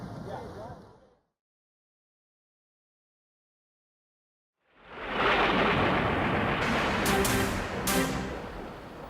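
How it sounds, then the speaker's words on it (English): Storm on the third day of the Open Championship at Muirfield links: driving rain and a northeast gale roar in loud and steady, with thunder, after a brief near-silent gap, the rain and wind hissing continuously to the end. "a storm rages. Driving rain and a northeast gale lash Muirfield."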